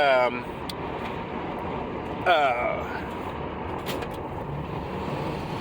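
Turbocharged vehicle engine steadily building boost while driving along, a continuous broadband engine and road drone with a brief surge partway through, with a voice speaking over it.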